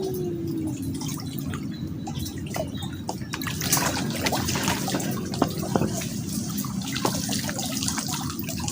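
River water flows and trickles steadily while shrimp are being caught. Close splashes and drips come and go over the running water, and no voices are heard.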